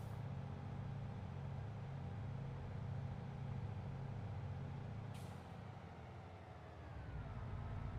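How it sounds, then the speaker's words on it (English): A truck engine in the video game Farming Simulator 22, on the Yukon Valley map, drones steadily at low pitch with a short, sharp air-brake hiss partway through, with no talking. "So yeah, I'm listening to the truck this time."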